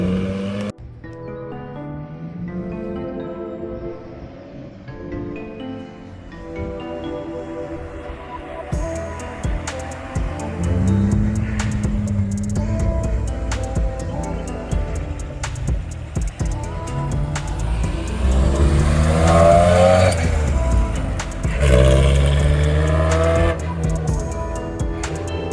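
A rally car engine at a rally school revs up and pulls away, its pitch climbing and dropping again as the gears change, loud and close throughout.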